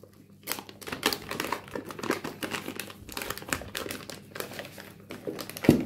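A Phoenix industrial 8-port Ethernet switch is pulled from its packaging: close crinkling and rustling of wrapping in irregular bursts with light taps, ending in a sharper knock, no talking.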